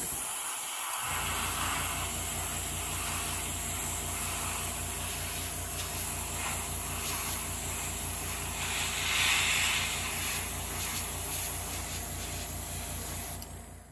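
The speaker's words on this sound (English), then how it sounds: "we're going to start airbrushing layers of black, silver, and white on the inside of the ship" A steady, close airbrush hiss runs unbroken for about thirteen seconds as black, silver and white paint is sprayed inside a 1:1000 scale model ship, with a faint compressor rumble underneath and no talking.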